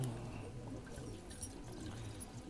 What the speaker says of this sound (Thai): เทน้ำใส่กานะครับ